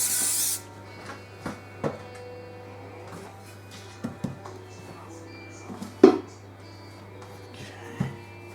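A short burst of aerosol spray hisses onto a pizza tray at the start, followed by scattered clicks and light handling knocks.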